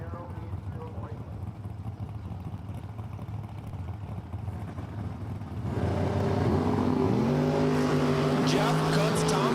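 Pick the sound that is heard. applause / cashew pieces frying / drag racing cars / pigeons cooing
drag racing cars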